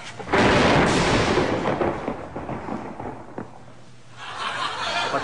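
Loud rumbling thunder crack opening with a broad booming burst that rolls and fades over several seconds, then a hissing rain-like wash at the end; no talk over it.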